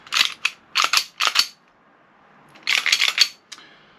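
A gas blowback airsoft pistol firing outdoors: quick clusters of sharp snapping shots, two to three in a burst, then a pause and another rapid string with a final lone shot, loud and close with no talk.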